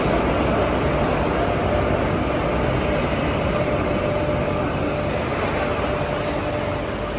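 A steady, loud rumble of the Duronto Express passenger train starting to move, an even roar with no talking that holds level throughout.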